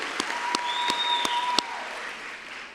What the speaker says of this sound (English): Now's the time to give them a big round of applause.